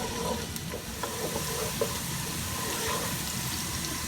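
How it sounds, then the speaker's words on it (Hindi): Steady, dense sizzling of onions frying in hot oil for Punjabi kadhi pakora, close up, with occasional faint stirring clicks and no voices. "अब सबसे पहले हम डालेंगे इसमें प्याज को थोड़ा सा पकाएंगे"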